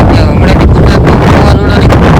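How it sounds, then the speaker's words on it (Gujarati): Strong wind buffets the microphone, producing loud, constant roaring and rumbling gusts. "કે પવન બહુ આવે છે"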